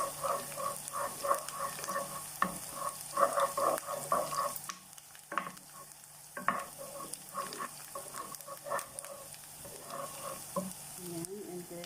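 Garlic and onion fry in a pan, a steady sizzle broken by frequent scraping stirs that knock against the metal, with a loud clatter partway through. No one speaks.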